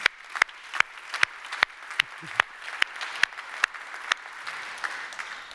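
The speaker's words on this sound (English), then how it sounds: "big applause for Sasha, please." Sparse applause at a conference: a small number of sharp, distinct claps at a steady, even rhythm over a faint background wash of the room.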